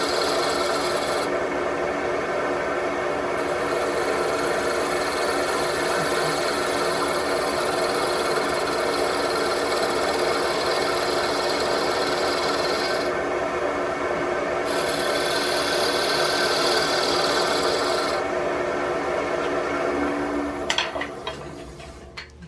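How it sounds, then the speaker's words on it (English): Continuous rough scraping of a skew chisel smoothing a spinning wooden wine glass stem on a lathe, steady and close for over twenty seconds, with brief shifts in tone. "I'm just going to run a skew chisel over the stem to get it as smooth as possible"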